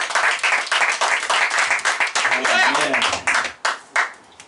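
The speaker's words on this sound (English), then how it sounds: "Another big round of applause for Bobby Garza, please" Audience clapping and cheering at a comedy roast, a dense burst of applause that fades into scattered claps toward the end, with voices calling out over it.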